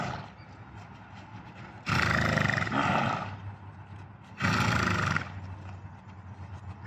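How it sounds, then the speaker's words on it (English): Two loud, drawn-out horse whinnies ring out a few seconds apart in the morning, each lasting about a second, over a quiet outdoor background. "The sound of horses in the morning."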